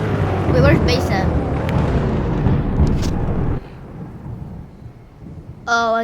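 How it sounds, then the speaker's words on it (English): Loud rolling thunder from a thunderstorm in a tornado survival video game, a long rumble that cuts off abruptly partway through and is followed by quieter storm ambience before another burst; someone talks over it. "Oh, still getting big thunderstorms."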